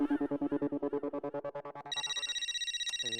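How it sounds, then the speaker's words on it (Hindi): A bright electronic ringtone melody plays nearby, pulsing in a fast repeating rhythm, then shifting to a higher warbling ring pattern. "अभी किसका फोन है?"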